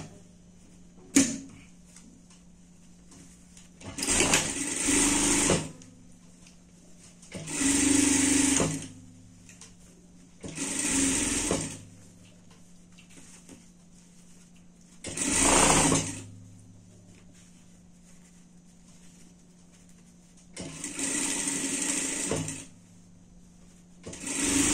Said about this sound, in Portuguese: Agora aqui a gente vai passar uma costura de segurança.